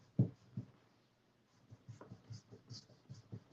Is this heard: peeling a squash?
yes